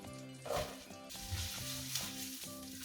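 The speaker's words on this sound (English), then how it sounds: "Once it starts to shimmer, we can go ahead and add our onions." Onions sizzle in shimmering sunflower oil in a pan, a steady close crackle broken by rhythmic stirring scrapes, with no voices.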